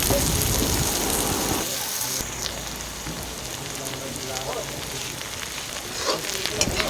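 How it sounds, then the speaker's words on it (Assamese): Onions frying in hot oil in a home kitchen, with a dense, steady sizzle and crackle that runs close and loud throughout, easing slightly after the first couple of seconds, with no talk over it. "তেল ইতিমধ্যে গৰম হৈ গ'ল। পিঁয়াজখিনি ধুনীয়াকৈ ভাজি ল'ম এতিয়া।"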